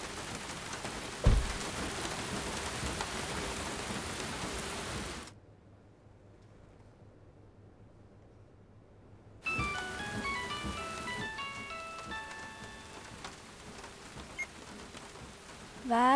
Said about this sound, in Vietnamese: bên ngoài mưa lớn lắm